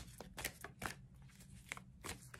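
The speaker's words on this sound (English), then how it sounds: "I'm shuffling a little bit easier now because the cards are flying all out" A deck of tarot cards is shuffled during a reading, loosely enough that cards fly out. Soft, irregular bursts of riffling and slapping sound are quiet and close, with no speech.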